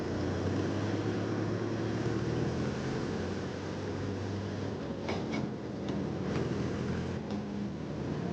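A new 2023 Mahindra tractor rolls slowly in fourth gear, its engine a steady, low droning hum with faint clicks and knocks partway through.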